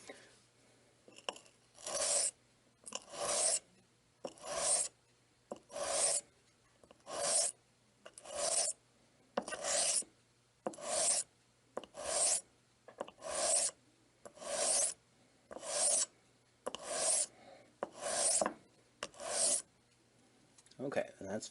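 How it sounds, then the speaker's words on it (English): A straight razor is drawn across a sharpening stone in about fifteen steady, evenly spaced rasping strokes, each a short scrape followed by a brief pause, close and clear with no talk. "You flip the stone over, and then you do between 10 to 15 passes again."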